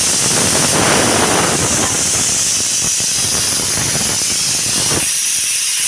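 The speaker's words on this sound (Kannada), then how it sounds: "ಈಗ ಸ್ವಲ್ಪ ಒಂದು ವಿಸಲಷ್ಟು ನಾನು ಕುದಿಸೇನಿ ರೀ" Loud, steady steam hiss from a pressure cooker boiling chickpeas, a broad rushing jet that holds nearly unchanged for several seconds before easing slightly near the end, with no voices.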